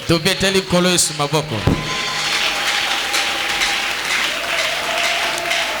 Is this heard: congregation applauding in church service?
yes